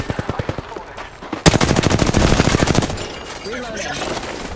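Automatic weapon fire in the Apex Legends shooter on PS4 Pro: a sparse volley of bursts, then a loud, dense, rapid stream of shots lasting over a second, fading into lighter trailing noise. Talk is faintly present.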